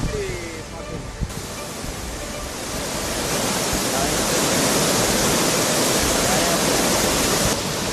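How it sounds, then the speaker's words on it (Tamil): The Thirparappu waterfall runs in heavy flood, a loud, dense, unbroken roar of rushing water that swells slightly partway through and carries no clear speech. "திருப்பரப்பு அருவியில் தண்ணி அதிகமாக வருது"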